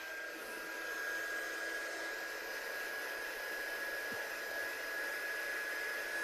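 A heat gun blows a steady, even rush of hot air to dry wet pink ink on a handmade card, continuous and close for the whole stretch with no talking.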